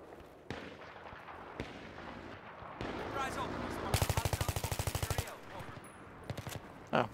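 Rapid automatic gunfire rings out in Battlefield 3, a long burst of evenly spaced shots near the listener, with scattered single shots before and after.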